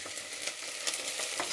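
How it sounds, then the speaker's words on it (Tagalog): Sardines are sautéed with pechay in a pan. A soft, continuous sizzle with light stirring is heard close but fairly quiet, with no voices. "Tapos, igisa lang siya natin dito sa may pechay."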